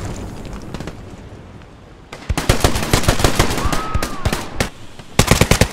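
Gunfire and an airstrike in the World War II shooter Hell Let Loose on a D-Day battlefield: steady distant rumble, then dense rapid bursts of shots and loud cracking blasts, ending in a sharp close volley.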